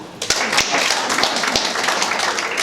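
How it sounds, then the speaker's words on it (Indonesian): An audience at an Indonesian book discussion event applauds, a dense, steady wash of clapping with a few sharper, closer claps standing out near the start. "Mohon tepuk tangan."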